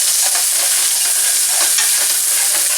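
Chopped vegetables cook in oil in a pot for a spinach pasta, giving a steady, loud frying sizzle with light stirring scrapes throughout, no voices.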